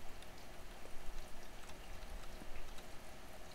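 Steady rushing and splashing of a waterfall in the Minecraft survival game, a continuous flow of moderate level with scattered droplet-like patters and no talking.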